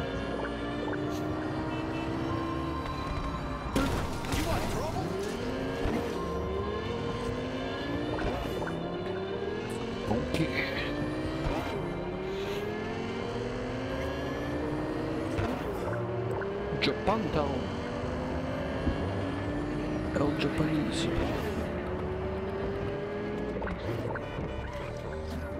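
Motorbike engine revving and shifting in a Cyberpunk 2077 game scene, with repeated rising whine sweeps as it accelerates, steady and close throughout, with a voice talking over it.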